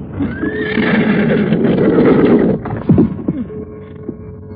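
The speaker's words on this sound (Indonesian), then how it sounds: "Jaran Lejong dan Jaran Bangkal bersiap-siap dengan kuda-kudanya" Horses whinny loudly and close, a long neigh followed by snorts and a few hoof clip-clops as riders ready their mounts, heard alone without talk.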